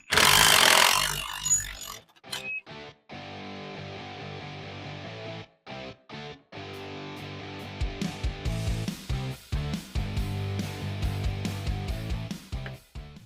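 An impact wrench with a 16 mm socket zips rocker arms off a small-block 350 V8 engine being torn down for an S-10 swap, a series of loud whirring bursts separated by short gaps, turning into rapid choppy hammering toward the end.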